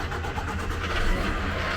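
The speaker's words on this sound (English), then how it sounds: "So first we're going to start the engine." A crane truck's engine, started by remote control, runs as a steady, dense, close rumble for the whole short stretch. The level stays even, with no voices.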